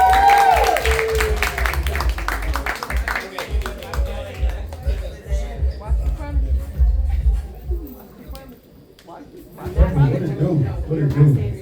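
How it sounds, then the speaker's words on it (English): Audience at a rhythm and soul open mic night clapping and cheering for a performer in a small venue. The applause is loud and close, with shuffling and chatter mixed in. A voice talks over it, and the clapping fades before a brief second swell. "Clap it up for B&B King, y'all."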